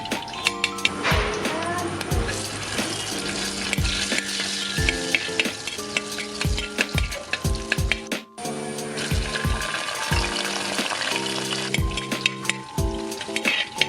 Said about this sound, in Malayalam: അതിനുശേഷം അണ്ടിപ്പരിപ്പും ഒരു മിനിറ്റ് ഇട്ട് മൂപ്പിച്ചതിന് ശേഷം നമുക്ക് കറുത്ത മുന്തിരി ചേർത്ത് കൊടുക്കാവുന്നതാണ്.